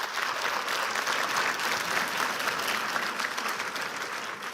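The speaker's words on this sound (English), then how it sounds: "I think a huge round of applause to Bobby, Preeti, and all our panelists" Sustained applause from an audience at a conference morning plenary, steady and full throughout with no voices standing out.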